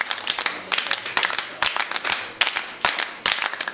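Young scouts clap together in a school in a border village, in bursts of sharp, loud, close claps with a rhythmic pattern broken by short pauses.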